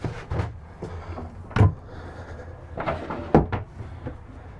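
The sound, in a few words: RV shower screen door retracting and squeegeeing water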